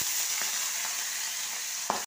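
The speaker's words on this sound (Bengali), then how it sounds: "এবার একটা করে মাছ আমি ভাজবো।" Rohu fish frying in hot oil over a lowered flame, a steady faint sizzle hissing throughout with a couple of soft clicks and a brief pop near the end.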